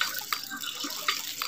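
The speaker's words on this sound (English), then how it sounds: "So I think the water has just come out of the" Water gushes out the delivery end of a ram pump pipe mounted on a pole at a river site, a steady broadband splashing with a few louder surges, fairly close and with no voices.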